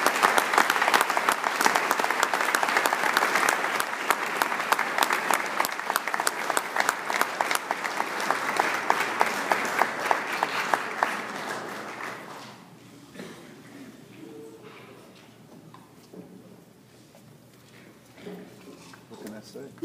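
Warm round of applause from a hall of fame ceremony audience, dense steady clapping for about twelve seconds before fading to scattered claps and quiet room noise.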